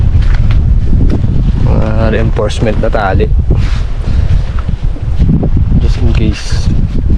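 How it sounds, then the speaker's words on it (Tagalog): Strong wind buffets a seaside motocamping campsite in Malico, San Nicolas, Pangasinan, roaring continuously against the microphone while people talk over it. "Taas ng hangin."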